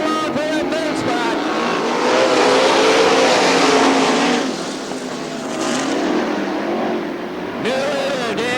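410 sprint cars race at Crystal Motor Speedway in Crystal, Michigan, in 1999, their engines roaring loudly as they pass, swelling and fading as the field sweeps through the turn, with an announcer talking over them.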